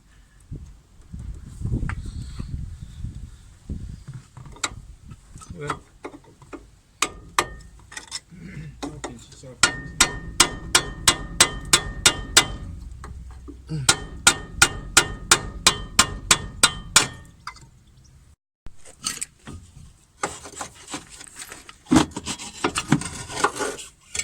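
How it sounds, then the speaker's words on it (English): A hammer strikes the control arm of a Ford Focus Mk1 in rapid bursts of sharp clanks, separated by scraping and rattling of tools nearby. "it's difficult to hit it with the hammer"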